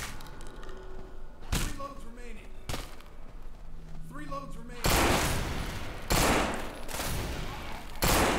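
Gunfire in the No More Room In Hell zombie game: scattered sharp single shots ring out amid game sounds and talk, then dense, loud sustained firing takes over the second half.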